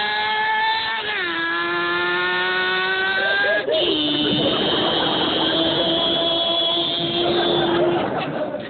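A motorcycle engine passes by, its pitch climbing then dropping sharply as it goes past, followed by a steady loud drone from another engine holding a constant tone.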